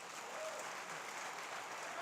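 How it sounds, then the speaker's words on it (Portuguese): Audience applause at a church conference in Pompeia, São Paulo, a soft, steady wash of clapping heard from a distance for about two seconds. "Dá uma salva de palmas para o Marcos."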